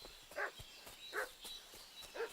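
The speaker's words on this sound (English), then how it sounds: "What's that dog making such a fuss about?" A dog barks in the video game Kingdom Come: Deliverance 2, three evenly spaced yaps that sound moderately distant and faint against a quiet ambient background, with no speech.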